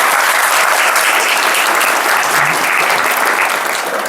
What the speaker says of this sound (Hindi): ताली बजाओ इस होली की।